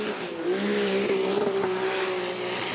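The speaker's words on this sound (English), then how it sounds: "That exhaust note, listen to how even and smooth it is." A Formula Drift pro car at the Orlando round, its exhaust note loud and steady, sustaining a smooth, even drone with a faint squeal from the tires beneath it.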